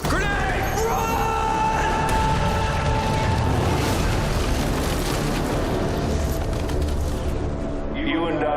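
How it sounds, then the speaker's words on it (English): A grenade explodes during a loud action scene from a game or film, a dense, roaring blast that lasts throughout, mixed with music and raised voices. "Grenade!"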